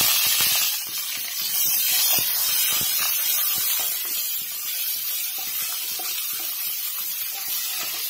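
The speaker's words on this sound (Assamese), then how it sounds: "জিৰাখিনি ফুটি অহাৰ পিছতে মই এতিয়া মিহিকৈ কাটি ৰখা পিঁয়াজখিনি দি দিছোঁ" Finely chopped onions fry in hot oil over a low flame with cumin seeds, making a steady, loud hiss and sizzle that runs throughout with small crackles.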